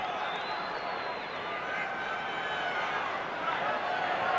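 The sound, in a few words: crowd roaring at rugby league semi-final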